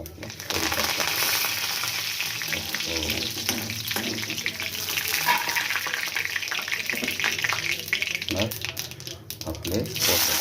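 Cumin, fenugreek and curry leaves sizzle in hot oil in a pan for potato poha, with a steady crackling hiss and a few stirring clatters, while a person talks over it.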